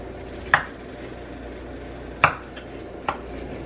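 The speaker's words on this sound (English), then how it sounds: "Just cut the florets." A kitchen knife cuts vegetable florets into pieces: three separate sharp chops land on a board at uneven intervals, close and moderately loud over a low room hum.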